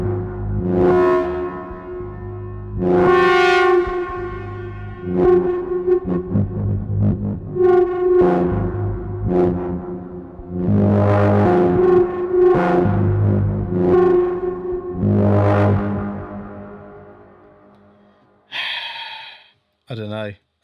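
A Pittsburgh Modular Lifeforms SV-1 synthesizer plays loud, droning tones run through delay and reverb, with swelling notes that repeat and trail off before a brief burst at the end.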